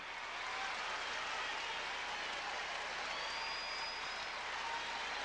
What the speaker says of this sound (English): a large crowd here at the Olympic Saddle Dome give him a resounding standing ovation